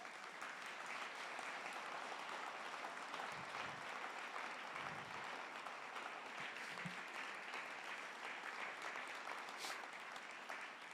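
Sustained applause from a church congregation, a dense steady wash of many hands clapping at even loudness throughout, with no voices standing out.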